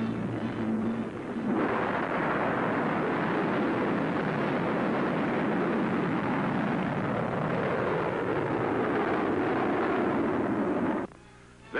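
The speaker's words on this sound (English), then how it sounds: "The rocket, which stands 46 feet and weighs 14 tons, is driven by liquid oxygen and alcohol." A 46-foot, 14-ton rocket burning liquid oxygen and alcohol roars through launch and ascent, a loud sustained broadband rumble that swells after a brief lower tone, holds steady for about ten seconds, then cuts off abruptly.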